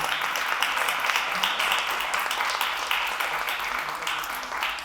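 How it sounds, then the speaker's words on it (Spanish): Audience applause after a talk on Bach, techno and the future of the piano, a steady, even wash of many hands clapping that continues throughout at moderate loudness. "Un aplauso."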